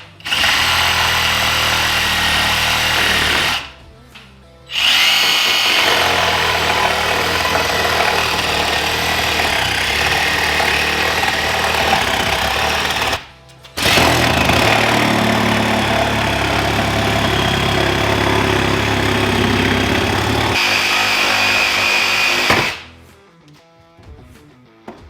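A power saw cuts loudly and continuously through a garage cabinet toward the wall, in three long runs split by brief stops, then winds down at the end.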